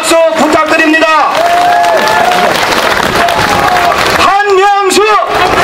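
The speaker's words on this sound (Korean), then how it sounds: "여러분, 뜨거운 박수 부탁드립니다." Crowd applause and cheering at an outdoor campaign rally in Seoul's Yeongdeungpo district, loud and continuous, with amplified voices calling out over the clapping at the start and again near the end.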